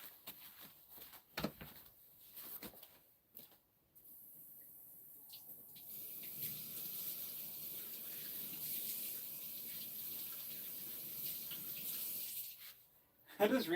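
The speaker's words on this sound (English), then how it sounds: "I'm gonna rinse this off really quick." Running water from a tap pours steadily for several seconds as an opal piece is rinsed at a sink, with a few brief knocks and handling noises near the start and end.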